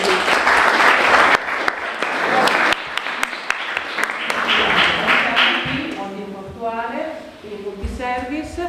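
Applause from a seated audience at a public talk on the port of Venice-Mestre, steady dense clapping for several seconds that thins out near the end while a voice speaks over it.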